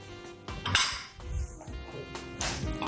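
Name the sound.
onion being added to a cooking pan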